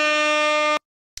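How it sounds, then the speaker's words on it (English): An air horn sounds at an NBA basketball game between the Sixers and the Jazz: a single loud, sustained, brassy blast that cuts off sharply, followed by near silence and a faint trailing noise. "Somebody's ringing the air horn."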